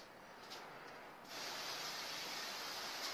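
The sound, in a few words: silicone spray sprayed inside atlas stone moulds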